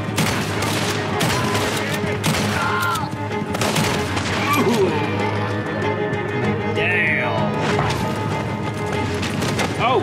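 Dense, loud gunfire rattles through a Red Dead Redemption 2 shootout, overlapping shots and crashes layered with game sounds and voices talking over the action.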